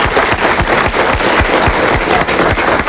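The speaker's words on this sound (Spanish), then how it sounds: "Un aplauso, por favor, para ellas." A studio audience on a Spanish television talk show claps loudly and in rhythm, sharp regular beats in unison running for several seconds with no talking over them.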